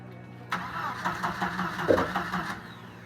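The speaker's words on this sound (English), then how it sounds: "we finally got the fuel tank in, and we're gonna see if she starts up" A Jeep engine on an offroad project build cranks and catches right after a fuel tank install, running roughly for a couple of seconds close by before cutting off, with a brief voice in the middle.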